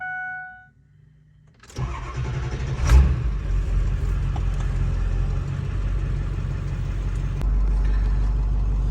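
A Ford 7.3 Powerstroke diesel truck engine with an exhaust leak cranks and catches, then idles with a steady loud rumble and a raspy, puffing hiss, swelling slightly toward the end.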